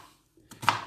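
Red onion being finely chopped with a knife for guacamole, a quiet pause and then a few close, crisp blade strikes on a board in quick succession.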